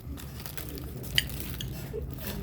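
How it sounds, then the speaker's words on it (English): A spoon scoops through an Indian-inspired rice dish on a plate, making soft scraping and gentle clinks, with one sharper tap of metal on the plate midway, all quiet and close. "I'm gonna shovel the rice with a spoon."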